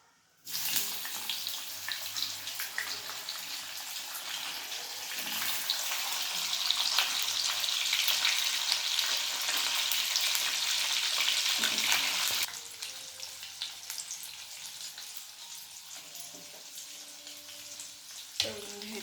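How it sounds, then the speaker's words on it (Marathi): Paneer pieces fry in a hot pan for a dhaba-style matar paneer, giving a loud, steady, close sizzle for about twelve seconds before it drops to a softer crackle. "हे बारीक करून घेतले पनीर तळून घेते"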